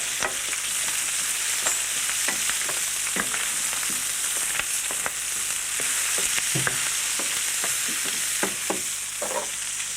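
Onions frying in a pan for Spanish paella, a dense steady sizzle heard close up with frequent sharp spatula ticks and scrapes throughout, no voices.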